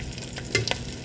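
Dried salted fish (tuyo) fries in oil in a pan and is turned over, a quiet steady sizzle broken by a few sharp clicks and taps of the utensil flipping the fish, with no speech.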